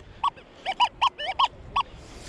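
A metal detector in pitch-tone mode on a beach, giving a run of short squeaky, fluty beeps of varying pitch, about seven quick chirps close together, clear and fairly loud.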